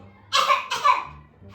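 Two hoarse, breathy coughs in quick succession, fairly close, followed by a faint murmur.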